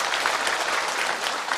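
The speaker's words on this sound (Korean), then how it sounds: "조금 박수 부탁드리겠습니다" A short burst of steady, dense clapping comes from the audience at a National Assembly forum in Korea, even in loudness throughout.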